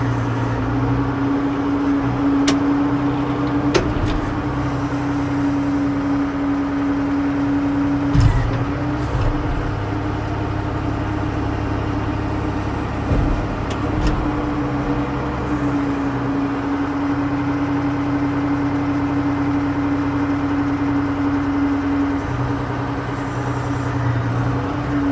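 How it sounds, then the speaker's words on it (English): A Komatsu WA180 wheel loader with 14,370 hours idles high and steady, a constant droning engine hum with a strong low tone that holds nearly unchanged, with a few brief knocks and clicks over it. "This machine idles kind of high"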